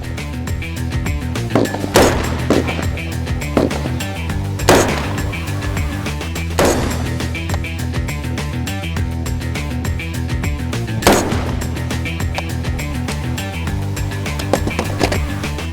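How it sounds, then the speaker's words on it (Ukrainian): Unsuppressed .223 Rem rifle fitted with a Zero Sound Mini Brake muzzle brake fires sharp, loud outdoor shots, roughly six cracks spaced a few seconds apart, each with a brief ringing tail. "Тепер другий тест без глушника і з накрученим ДГК."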